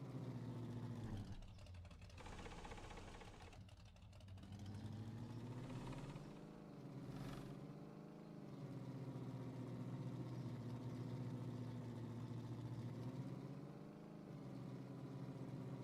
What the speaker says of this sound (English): I don't know why this thing sounds like a Harley when it's idling.